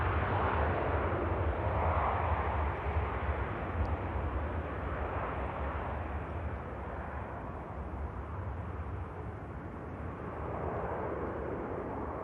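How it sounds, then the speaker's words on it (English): A jet airliner at Manchester Airport, a loud continuous broadband engine roar that holds steady and swells slightly, rumbling throughout the whole stretch. "This aircraft going to Tenerife South."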